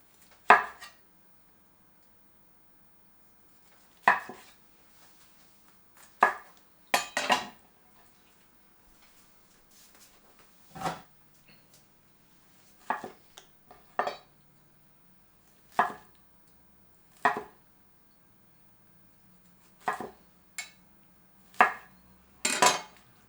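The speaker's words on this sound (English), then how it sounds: "Cut the pineapple into bite size." A knife chops pineapple into bite-size slices on a cutting board in a quiet kitchen. A dozen or so sharp, separate thunks come at an uneven pace, some in quick pairs, with near silence between them and no talking.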